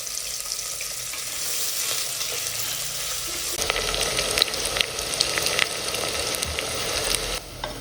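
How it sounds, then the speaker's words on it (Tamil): Onions and green chillies are dropped into hot oil with fried cinnamon and cloves for mushroom biryani, and partway through a louder, crackling sizzle takes over from a softer hiss, close and without talk. "இப்போ வெங்காயமும் பச்சை மிளகாவும் உள்ளே போட்டுருவோம்"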